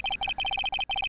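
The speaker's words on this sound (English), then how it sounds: "It's the Steel Samurai theme song, isn't it?" The Steel Samurai theme ringtone from the Phoenix Wright: Ace Attorney game, a bright electronic melody of short repeated beeping notes in quick rhythmic groups, clear and close with brief gaps between phrases.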